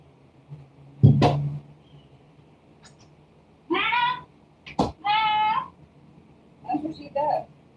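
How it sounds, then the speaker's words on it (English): A female cat meows repeatedly in a home, with a few drawn-out, insistent cries spaced across the clip after a brief thump, heard near and fairly loud with little else around. "Meowing my ears off."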